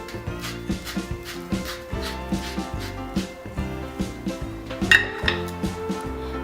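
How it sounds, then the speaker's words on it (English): Wooden paddle working through steamed rice with sesame oil and salt for tofu kimbap filling, giving steady rhythmic knocks and scrapes against a bowl, close and moderately loud, repeating about twice per second. "Mix them using wooden paddle."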